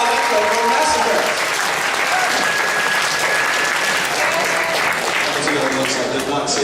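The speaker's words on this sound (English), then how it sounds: "A big round of applause for Kadan Alenko from Mass Effect." A convention crowd at an anime con costume contest gives a sustained round of applause, dense and even clapping mixed with a few cheers, holding steady throughout at moderate loudness.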